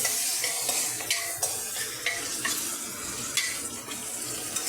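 Ginger garlic paste fries in a pan with a steady hissing sizzle, broken by repeated light clicks and scrapes of a stirring utensil.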